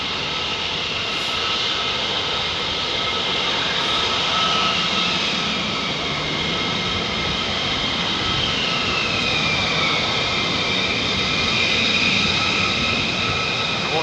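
F-15 fighter jets at RAF Lakenheath roar with a continuous, loud, broadband jet engine rumble and hiss, holding steady and close for the whole stretch with no pauses.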